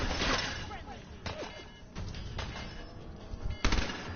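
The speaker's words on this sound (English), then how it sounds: "I'm being shot." Gunfire in the video game Fallout 4, several sharp bursts and shots over a dense game soundscape, with a loud close shot near the end; a player talks over it.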